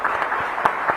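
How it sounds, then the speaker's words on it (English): Audience applause for guests at a Quad foreign ministers panel during the Raisina Dialogue 2023, a brief, even wash of many hands clapping in a large hall, moderately loud. "Please join me in applauding the esteemed guests for the contribution."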